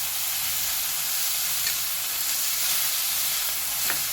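Leafy ghol greens with gram flour being stirred in a pan, heard as a loud, even hiss and sizzle that stays steady throughout, with faint scraping touches.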